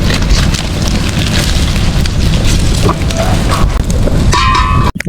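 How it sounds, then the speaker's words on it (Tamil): Stove fire roaring under a pot while quail biryani cooks, a loud, dense, rushing roar that fills the clip before cutting off abruptly near the end. "நெருப்பு கூத்தடிக்குது"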